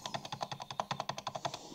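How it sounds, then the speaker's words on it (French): Rapid, even clicking of computer keys, about a dozen keystrokes in quick succession, close and fairly quiet. "Désolé si vous entendez les touches de clavier."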